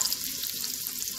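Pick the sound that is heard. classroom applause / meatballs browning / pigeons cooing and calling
meatballs browning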